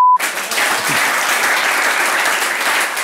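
Studio audience applauding on a Tunisian talk show, a sudden burst of dense clapping that starts after a brief tone and stays loud and steady throughout.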